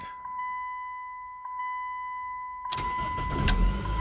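A 1999 Dodge Stratus starts at once without long cranking, following a steady chime tone with a couple of clicks, then its engine catches and settles into a close, running idle.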